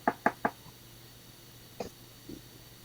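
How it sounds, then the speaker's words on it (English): Three sharp knocks on a door in quick succession, close and clear in a quiet room, followed by a couple of faint thumps. "I heard the knock."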